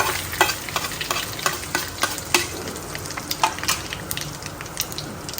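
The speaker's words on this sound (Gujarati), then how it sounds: "તો હવે આપણે એમાં રાઈથી વઘાર કરીશું." Curry leaves and mustard seeds crackle in hot oil for a tempering, a dense steady sizzle broken by sharp pops and spatters, with a stirring spoon scraping now and then; no talk.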